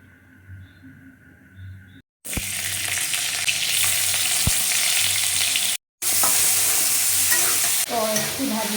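Onions sizzle and crackle in hot oil for pav bhaji, a steady loud frying hiss with stirring, broken by two short silent gaps.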